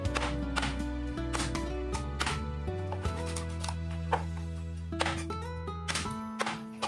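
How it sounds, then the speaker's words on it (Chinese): A cleaver chops a fish head into small pieces for sour cabbage fish, giving a handful of sharp, separate thuds at an uneven pace over steady background music. "鱼头我们给它剁开，剁成小块"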